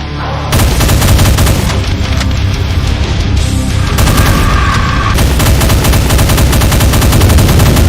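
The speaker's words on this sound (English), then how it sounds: "firing the Vexed Nemesis Imp's Devastator Hyperball that shoots rail shots and homing projectiles, as well as bouncing off the wall once." Video game Doom mod weapon, the Devastator Hyperball, firing rail shots and homing projectiles that bounce off a wall: rapid, loud, rattling bursts of blasts and booms, densely layered with no pauses.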